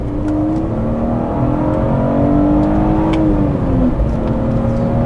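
A BMW E46 330i with a custom tune and raised rev limit pulls hard around the Nürburgring Nordschleife, its engine droning loud and close, pitch climbing steadily, dipping briefly, then rising again.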